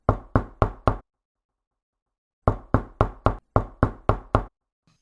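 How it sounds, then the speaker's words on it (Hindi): Loud, crisp knocks on a door as a radio play sound effect: a quick run of four raps, a pause of over a second, then a longer run of eight more, each knock sharp and close. "जा देख कौन है दरवाजे पे, कब से खटखट हो रही।"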